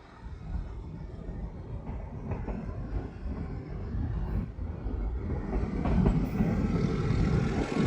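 Metre gauge train running from Junagadh toward Chalala, a steady loud rumble of wheels and carriages with faint rhythmic clatter, building slightly louder toward the end.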